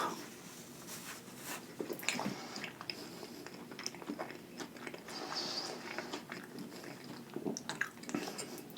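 Someone chewing a McDonald's Big Mac burger close to the mic, soft squishy bites and wet mastication repeating steadily, quiet and intimate.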